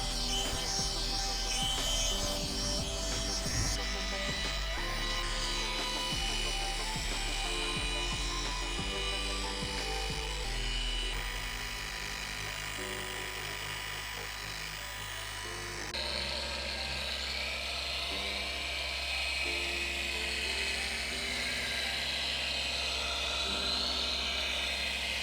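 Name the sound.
machine polisher doing light polish on car paint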